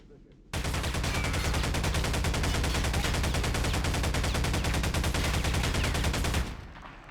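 Sustained rapid automatic gunfire from a weapon in Halo CE on the Pillar of Autumn, a loud, dense continuous burst lasting about six seconds before cutting off abruptly.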